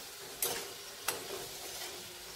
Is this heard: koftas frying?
yes